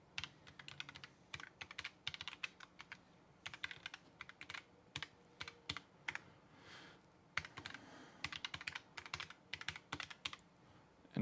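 Someone typing a username and password on a computer keyboard, close and alone, in quick bursts of crisp key clicks with short pauses between.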